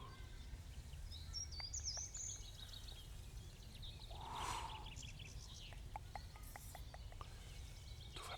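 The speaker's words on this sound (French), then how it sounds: "Les oiseaux se rapprochent. Leur chant est de plus en plus fort." Birds chirp and sing in a forest, with faint high calls and short repeated notes scattered over a quiet, soft ambient background.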